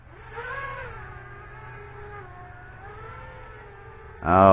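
Diatone GT M530 drone motors whine upward in a steady, layered electric tone during a hover test, holding near and moderately loud before surging into a sudden, louder burst at the very end.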